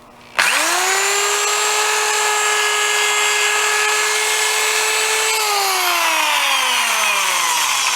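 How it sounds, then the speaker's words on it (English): An electric drill spins a Scotch-Brite pad against a Mercruiser Alpha One gearcase, starting abruptly into a steady high whine with bright harmonics, then its pitch sags gradually toward the end as the load increases, loud and close throughout. "this is the Scotch-Brite and electric drill."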